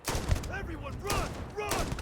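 A turret fires quick bursts of gunfire in the Starfield sci-fi game, three short volleys over about two seconds, layered with game effects and a voice.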